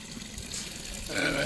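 Water runs from a village drinking fountain in Raotince, a steady splashing flow under outdoor ambience that grows louder and brighter toward the end of the clip.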